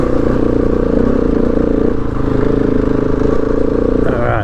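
A Husqvarna 701 Enduro motorcycle climbs over rocks on a mountain trail, its engine a loud, steady, close drone with rough clattering from the terrain throughout.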